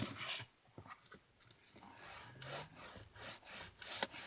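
A bone folder presses and rubs paper down onto a children's book cover, making faint, intermittent scraping strokes with a few soft dull taps up close.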